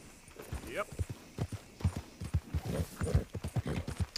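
Horse hooves clip-clopping on the ground in the video game Red Dead Redemption 2, a steady walking rhythm of repeated close thuds under someone talking.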